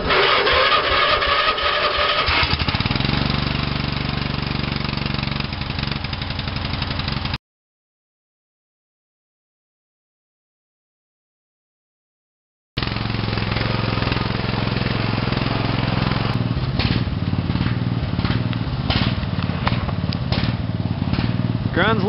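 Racing lawn mower engine revving at full throttle, a loud close buzzing roar that breaks off into a stretch of silence before resuming, rough and strained, with voices speaking over it.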